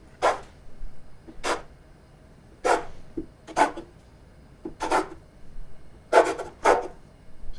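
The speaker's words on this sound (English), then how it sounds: "and cut your ciabatta" A scraper cuts through floured ciabatta dough on a wooden board, producing seven short, separate scraping thuds spaced about a second apart, close and fairly loud with quiet gaps between and no talk.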